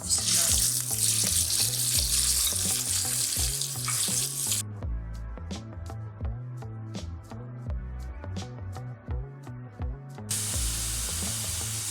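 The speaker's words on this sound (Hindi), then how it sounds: "क्रश किया हुआ लहसुन और अदरक सुर्ख हो गया, इसके अंदर डालेंगे कीमा।" Minced meat fries in a little oil with crushed, browned garlic and ginger, giving a loud steady sizzle and hiss over tonal background music, fading lower in the middle before the sizzle swells again.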